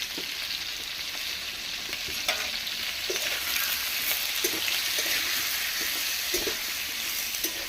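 Diced potatoes and pointed gourd fry in oil with a little turmeric, a steady close sizzle throughout with soft scraping stirs at intervals.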